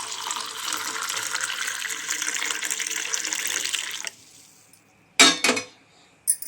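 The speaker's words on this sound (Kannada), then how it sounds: "ಬಿಸಿನೀರು ಹಾಕ್ತಾ ಇದ್ದೀನಿ." Hot water pours into a cup holding a spoonful of health powder, a steady close splashing rush for about four seconds, then a faint trickle followed by a couple of sharp glassy clinks and knocks.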